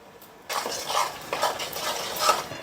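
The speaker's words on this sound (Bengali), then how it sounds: "এবার আমি এটাকে খুব সুন্দর করে কষিয়ে নেব এবার এটা যতক্ষণ না তেল ছাড়বে ততক্ষণ আমি এটাকে কষিয়ে যাব" Paneer masala for malai paneer being stirred and sautéed in a pan, with a spoon scraping and clinking against the metal in repeated strokes over a soft frying sizzle, close and fairly loud.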